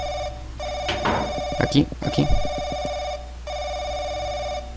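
Telephone ringing in the video game Paranoiac, a repeating electronic ring that starts, pauses, then resumes, with someone talking over the middle stretch.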